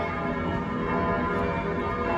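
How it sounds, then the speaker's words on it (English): Church bells ring from a tower in Munich's Marienplatz, a dense, continuous wash of overlapping peals heard from nearby, steady and fairly loud with no voices. "Listening to the church bells."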